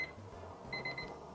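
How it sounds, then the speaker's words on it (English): A deep fryer's temperature alarm gives faint, short, high electronic beeps, a brief chirp followed by a quick cluster of pulses, over quiet kitchen background. "That's the alarm letting me know my fryer is at temp."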